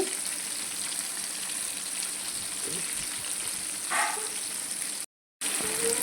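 Fish frying in oil with onion and chili powder gives a steady, moderately loud sizzle that holds through the whole stretch, broken by a brief dropout near the end.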